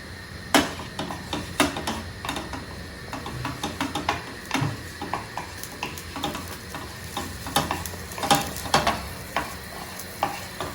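Butter melting and sizzling in a frying pan for a breakfast of eggs and sausages, with a low steady crackle under sharp clinks and scrapes from a utensil spreading it around the pan.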